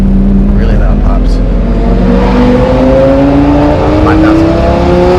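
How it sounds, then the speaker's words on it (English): A Lamborghini with its mufflers removed drives at speed; a loud, constant engine roar with rising revs, and the crackles and pops of an aftermarket exhaust sit inside the drone, close up. "Really loud pops."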